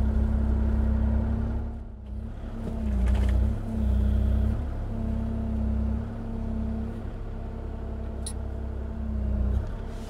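A Kubota KX040-4 four-ton compact excavator's diesel engine runs steadily nearby, a loud continuous low rumble with a droning hum and slight swells in load, no voices.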